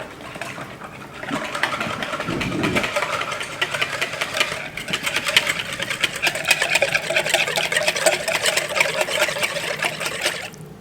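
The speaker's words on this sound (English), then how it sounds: "about 3 tablespoons of olive oil, and then we're just going to whisk that up." Olive oil whisked into a salad dressing in a bowl, a steady fast whirring, rattling texture that runs nearly continuously and close up, with no talking over it.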